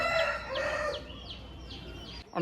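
A rasangi myla rooster crows once nearby in a long drawn call, followed by a few short clucks and chirps from other fowl in the background.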